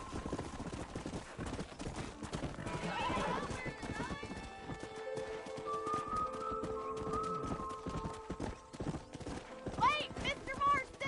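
Horse hooves clip-clop at a gallop in the Western video game Red Dead Redemption, with neighs and whinnies and a steady rhythm running under a man's spoken lines and game music.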